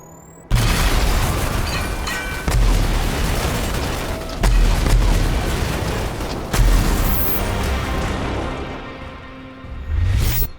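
Heavy explosions in the video game Rage 2, a series of loud booming blasts roughly every two seconds with rumbling low end and debris whooshes, the last burst coming near the end.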